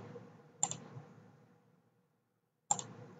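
Two crisp computer mouse clicks, sharp and close, spaced about two seconds apart with a faint low hum between them.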